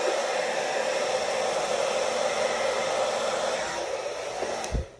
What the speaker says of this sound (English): That trusty hair dryer